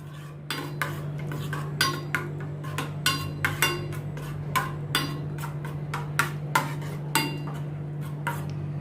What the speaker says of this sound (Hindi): टोमेटो केचप डाल के अच्छी तरह से मैं मिक्स करती हूँ।